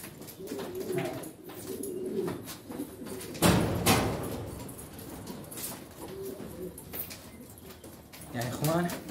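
Pigeons coo repeatedly inside a crowded coop being emptied, the soft throaty calls recurring over a busy background of shuffling, with a louder burst midway and people talking nearby.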